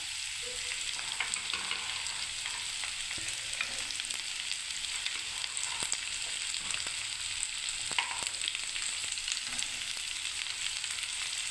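Carrots, tomatoes, green chillies and peas fry in a wok for semolina upma, a steady close sizzle with faint stirring scrapes and no talking.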